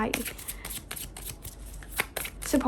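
Tarot cards are shuffled by hand at a fire-sign love reading: a quick run of riffling, flicking card sounds close by, with someone talking softly over them.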